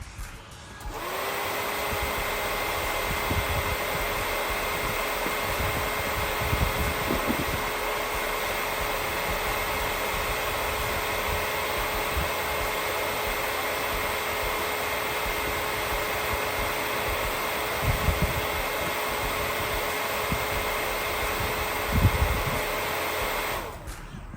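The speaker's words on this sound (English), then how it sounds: "I think it pulls 300-400 CFM, but I just want to hear it." A small 12-volt electric radiator fan whirs steadily at full speed, a continuous airy whoosh with a faint tonal hum, running alone without pause.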